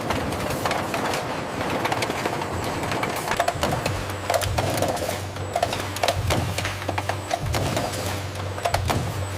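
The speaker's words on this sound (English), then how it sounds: "Cans filled with processed jackfruit now enter the high-speed sealing line." A high-speed can sealing line handles cans of processed jackfruit in a factory, with a dense, rapid clatter of repeated mechanical clicks over a constant machine drone and a low hum that steadies partway through.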